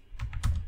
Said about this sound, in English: I'll also clear the terminal and then type npx hardhat